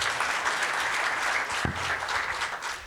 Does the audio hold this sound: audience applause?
yes